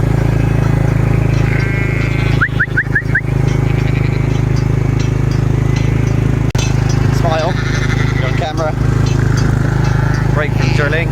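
Sheep bleat at feeding time on a farm, several short calls rising over a constant low engine drone, with a voice talking nearby.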